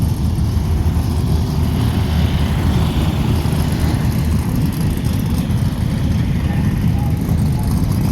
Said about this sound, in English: It's loud. There's a big motor in it.